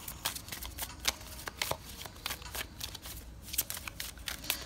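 Shuffling a Moonology oracle card deck: quick, irregular riffling snaps and soft card slaps, close and quiet, with no voice.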